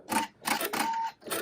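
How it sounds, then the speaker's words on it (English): An embroidery machine stitches bat fangs and nose detail in pink thread, giving quick rattling bursts of needle pecking in three or four short runs with brief pauses, close and clear with no talk. "Next, we're going to stitch his fangs and a little nose detail."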